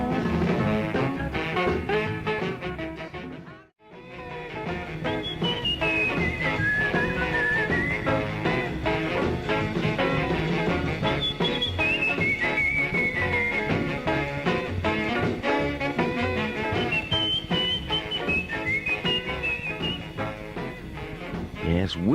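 Whistled melody carried over a full rock and roll band on a record, the tune riding high above steady drums and guitar for about twenty seconds after a brief break near the start.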